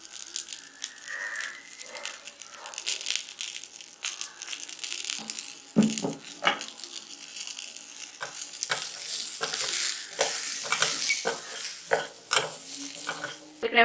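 Masala powder is stirred into peanut sundal in a pan with continuous scraping, gritty rustling and sharp taps of the spoon against the pan, close and busy throughout.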